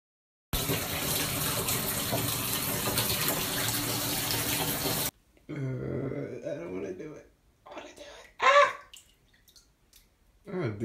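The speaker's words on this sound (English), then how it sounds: "Water's on cold." Cold water gushes from a tap into an ice bath, a loud steady broadband rush for several seconds, then it stops and quieter bumps, splashes and voices follow.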